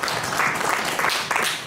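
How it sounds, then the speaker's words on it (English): Workshop attendees at Uganda Christian University applaud their facilitators with a brisk, moderately loud burst of clapping that stays fairly even and carries no talking. "Can we clap for our facilitators?"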